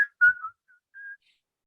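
A person whistles a short, bright tune in three quick phrases: a sustained note, a gliding pair of notes, then a brief pause before one held final tone. The whistling is close, clear and alone, with no talk.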